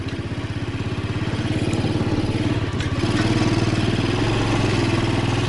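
Izh Planeta motorcycle with a sidecar and a Chinese engine riding along on level ground, its steady chugging engine loud and continuous at close range throughout.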